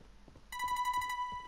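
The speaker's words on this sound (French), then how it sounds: "On va dire un téléphone qui sonne." A telephone rings inside a Fortnite horror map: a steady electronic ringtone kicks in suddenly about a third of the way through and repeats in a clean, bright, pulsing pattern over low background ambience, with no talking.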